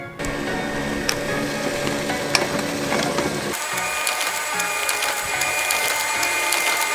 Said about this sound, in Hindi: बस ये प्रिंट आउट निकाले मैंने